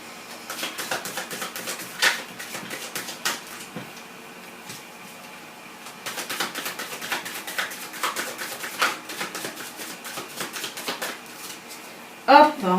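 A deck of tarot cards being shuffled and cut at a table, with close bursts of riffling and flicking that come in two clusters, then a louder knock near the end as the deck is cut.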